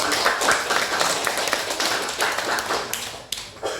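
A classroom full of students gives a round of applause for a good answer, brisk, dense clapping near and loud that lasts throughout, thinning slightly toward the end.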